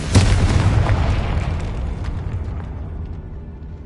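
A Confringo fire-blast spell bursts in the Hogwarts video game with a single deep, booming explosion that rumbles loudly and slowly fades away.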